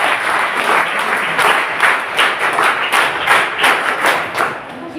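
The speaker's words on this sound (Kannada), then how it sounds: "ಜೋರಾದ ಚಪ್ಪಾಳೆಯ ಮೂಲಕ" An audience at a college NSS camp event claps loudly to welcome guests, a dense sustained burst of applause lasting several seconds with uneven swells.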